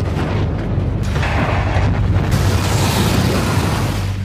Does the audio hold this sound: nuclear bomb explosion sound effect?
yes